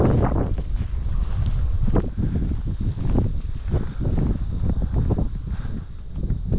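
Steady outdoor wind roars and buffets the microphone near open water, a continuous loud low rumble with gusty surges and no talking.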